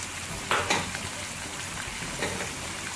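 Chicken frying in a pan with ginger garlic paste and biryani spices, a steady close sizzle with a couple of brief stirring scrapes, no talk.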